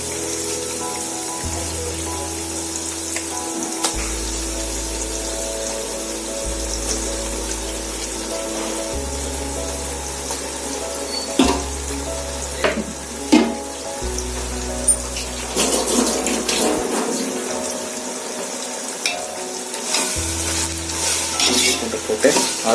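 Onions sauté in a pot on low heat for turkey biryani, giving a steady close sizzle with the scrape and clatter of stirring throughout and no voices.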